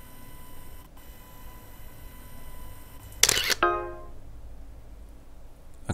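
A camera in the Casebook detective video game fires a single sharp shutter snap with a whirring mechanical tail that fades over about a second, amid quiet room noise.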